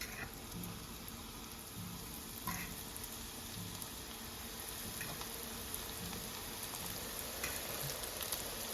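Battered onion rings fry in hot oil for a weeknight fish fry, a constant dense bubbling sizzle with faint crackles and pops, steady and close with no talking.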